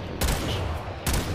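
Two loud, sharp blasts from the Redeemer Prime gunblade in the Warframe video game, spaced less than a second apart, each with a brief ringing tail.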